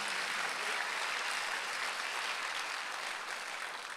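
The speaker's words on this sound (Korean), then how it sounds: "박수 한번 하세요." Congregation applause at a Sunday church worship service, a soft, even wash of many hands clapping at a distance, steady and fairly faint throughout.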